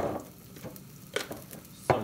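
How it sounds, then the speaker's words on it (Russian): Pork fat renders and fries in a pan stirred with a wooden spatula, giving a faint, steady low sizzle with a couple of brief sharp clicks or scrapes near the end and no talking. "Пока у нас сало жарится, топится"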